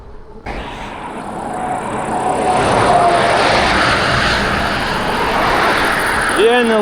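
Heavy road traffic runs past open fields, a loud continuous roar of passing cars that builds after a short pause and holds steady, with a faint tonal whine near the end.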